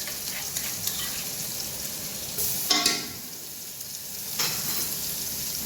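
Garlic ginger paste sizzles steadily in hot oil in a pan for a Malangi-style beef yakhni pulao, with a brief louder crackle of stirring midway.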